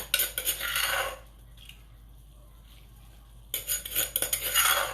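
Chili peppers pounded coarsely in a mortar with salt for a Thai-Lao sour pork tail soup, heard as bursts of knocking and clinking at the start and end with a quiet gap in between, no talk.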